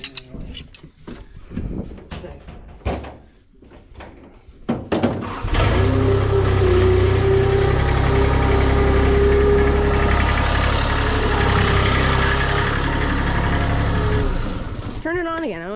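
A farm loader's diesel engine starts up and runs steadily at a loud idle after some brief voices and clunks, droning continuously near the listener.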